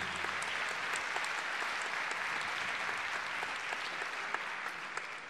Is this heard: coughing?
no